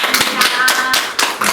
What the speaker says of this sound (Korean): 함께 환영의 박수